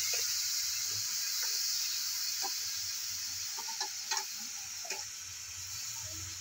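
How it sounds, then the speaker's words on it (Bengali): Mango pieces dropped into melted sugar in a wok sizzle with a steady, bright hiss, broken by a few soft clinks and taps from the pan. "এবার এই আমগুলো আমি কড়াইয়ের মধ্যে দিয়ে দিচ্ছি"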